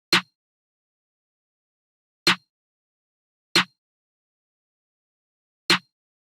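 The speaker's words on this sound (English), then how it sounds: "I came up with this very simple drill snare pattern." A UK drill snare pattern programmed in FL Studio, four crisp isolated snare hits with uneven spacing against complete silence.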